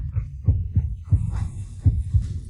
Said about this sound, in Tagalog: Ang bilis bigla ng tibok ng puso ko.